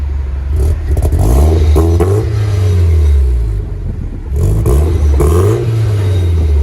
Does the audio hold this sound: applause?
no